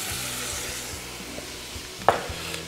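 A veal roast with onions sizzles in a pot over lowered heat, a soft steady frying hiss with faint stirring knocks and one sharper clack near the end, no talk.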